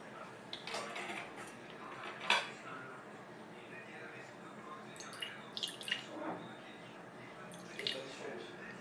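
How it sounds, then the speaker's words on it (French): Water runs from a cold tap over a warm container being rinsed in a kitchen, a faint, steady trickle with scattered clinks and knocks of dishware. "Je vais le passer sous l'eau froide."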